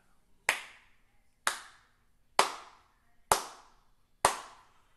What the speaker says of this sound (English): we clap four times, and that'll set up the steady beat